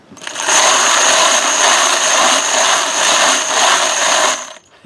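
Loud, harsh mechanical rattling and whirring from a brass-cleaning tumbler running nonstop with its lid open for several seconds, with a shrill tone riding on top, then stopping abruptly.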